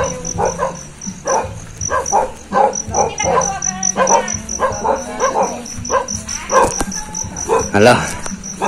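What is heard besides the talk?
many dogs barking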